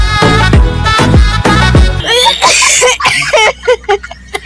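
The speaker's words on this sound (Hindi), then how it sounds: "इलाज करा इस खांसी का मोटे।" A man coughs in a Pakistani drama scene: three hard, close, throaty coughs in quick succession, followed by wheezing, sputtering hacks and gasps.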